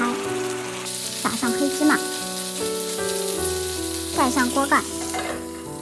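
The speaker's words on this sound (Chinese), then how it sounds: "平底锅内倒油，放入包好的包子， 煎至底面金黄色。 加水到小包子的一半，大火煮开" Pan-fried buns sizzle in oil and water in a flat pan, a constant close hiss and crackle running under a narrating voice and background music.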